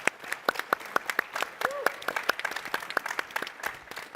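Scattered applause from a startup pitch-competition audience in a conference hall, fairly quiet, with individual sharp claps standing out in an uneven rhythm and a faint voice or tone briefly under it.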